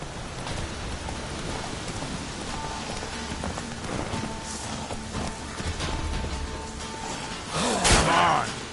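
Horse hooves clip-clopping steadily through a PS4 video game, set against a rainy backdrop with a rumble of thunder, the gallop rhythmic and close with a louder burst near the end.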